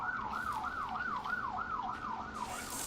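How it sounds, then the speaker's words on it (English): An ambulance siren wails in a steady, rapid rising-and-falling cycle, clear and fairly close, with no talk over it. "Pardon my ambulance, man."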